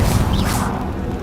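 Incendio fire spell cast in the Hogwarts Legacy video game, a loud rushing whoosh of flame with a dense crackling burst, fading over about a second.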